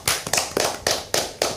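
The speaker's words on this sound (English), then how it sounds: "Let's clap for you." A few people clap for a student in a casual group setting, producing a handful of close, loud, irregular hand claps spaced about a quarter second apart.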